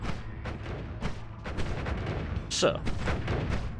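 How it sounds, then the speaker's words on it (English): A party bomb spell going off in the video game Noita, a sharp explosive burst amid a busy cluster of game impacts and pops, with someone talking over the action. "That's a party bomb."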